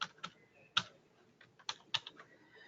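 Keys tapped on a computer keyboard, a close, quiet series of irregular clicks with a few sharper strikes and short pauses, no voice present.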